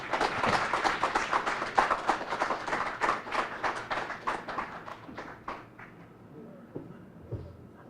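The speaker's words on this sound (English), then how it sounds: "Nyahuma Obika another round of applause for enlightening us this afternoon." An audience at a book launch breaks into hearty applause, many hands clapping densely and briskly before the ovation thins out and dies away over the last couple of seconds.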